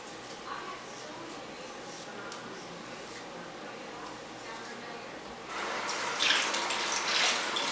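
Tap water runs steadily into a sink while a skincare tool is rinsed, a continuous close splash that grows louder and brighter toward the end as the flow is disturbed, with a person talking over it.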